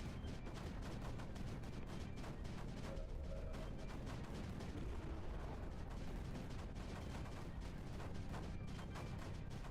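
Mortar fire in a strategy video game rumbles on continuously, a dense, loud barrage of rapid thuds and blasts layered into a steady roar of battle, with no talk over it.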